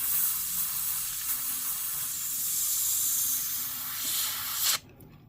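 An airbrush sprays paint onto a 1/100 MG Sinanju Stein Gundam model kit with a steady, close, loud hiss that holds for nearly five seconds and then cuts off abruptly.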